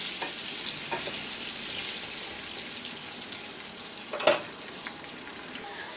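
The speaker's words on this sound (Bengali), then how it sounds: "এটাকে আমি ঢাকা দিয়ে ভাজছি, তাহলে একটু তাড়াতাড়ি সেদ্ধ হয়ে যাবে।" Potatoes fry under a lid in a covered pan, producing a soft, constant sizzle with a few faint ticks and one sharper clatter about two-thirds of the way through.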